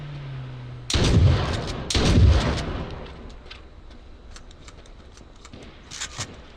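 Two loud, close gunshots boom in H1Z1 battle royale, about a second apart, each with a heavy rumbling tail. Fainter distant shots crackle afterward, then one more sharp report near the end.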